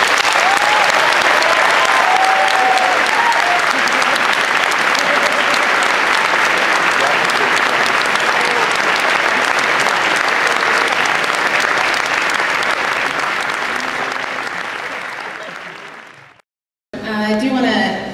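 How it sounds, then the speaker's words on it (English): Long, loud burst of audience applause after a speech at the opening ceremony of a medical students' association meeting, sustained dense clapping that slowly fades, a brief silence, then a short renewed burst. "I'd like to give him one more round of applause."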